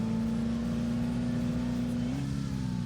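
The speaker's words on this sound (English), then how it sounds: "you start hearing the guy's engine" An ATV engine in the video game ATV Offroad Fury 4 drones steadily and loudly, holding an even pitch before rising slightly near the end.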